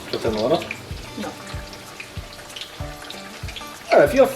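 Chicken pieces going into hot frying oil in a pan for a Doritos-crusted fried chicken sandwich, giving a steady close sizzle that flares loudly at the start and again near the end, with a voice talking over it.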